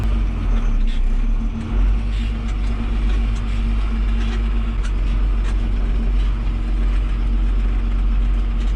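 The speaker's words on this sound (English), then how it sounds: "Just letting her warm up here, and then we'll drive it home." John Deere 7130 tractor idles while it warms up, giving a steady, close, low diesel drone with a constant hum and no change in pace across the whole stretch.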